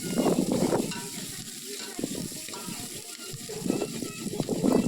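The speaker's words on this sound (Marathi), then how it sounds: "पातेल्यात तेल टाकायचं मंडळी कांदा भाजण्यासाठी" Onion frying in oil in a pot, a steady sizzle with stirring scrapes for a mutton curry, under intermittent talk throughout.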